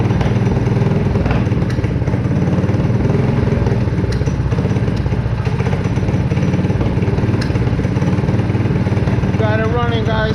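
A motorcycle engine fitted with a VM22 Mikuni clone carburetor runs steadily and loudly up close while being tuned, a constant throbbing drone throughout, with a brief voice near the end.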